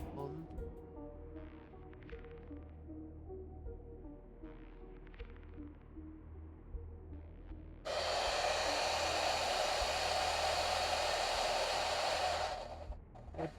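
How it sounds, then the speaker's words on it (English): A hair dryer starts up partway through and blows loud and steady, drying paint on a Warhammer Horus Heresy miniature. Before it switches on there is a low background hum with soft movement. "I'm just using the hairdryer, get my face nice and dry"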